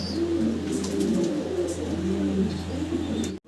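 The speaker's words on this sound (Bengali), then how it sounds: "ভিডিও স্ক্রিনে সিঙ্গেল 2 পিস কবুতর দেখাচ্ছি" Soft, rhythmic cooing of pigeons close by, repeating over a steady low hum, with no speech.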